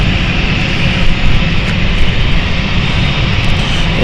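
Luxair airliner jet engines taxiing at London City airport, a loud, steady roar with a broad whine and rumble that swells slightly now and then, close by and without talk.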